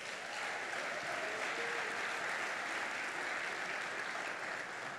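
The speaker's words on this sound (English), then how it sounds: "give them all a great round of applause" Steady applause fills an awards ceremony hall for nominees and winners, a dense, even wash of clapping from a large crowd sustained for several seconds without talk.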